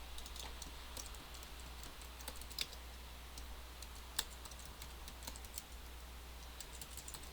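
Quiet clicks of typing on a computer keyboard, irregular keystrokes with a few sharper taps, over a steady low hum.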